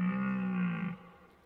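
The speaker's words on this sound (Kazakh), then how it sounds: "бұғы қандай дыбыс шығарады?" A deer gives a single low, droning call of about a second that cuts off abruptly, fairly clear and alone.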